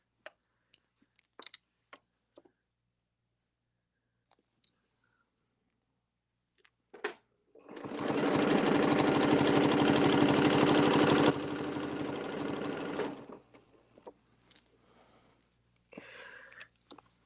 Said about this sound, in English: I'm going to go a few stitches past the margin and back to the line.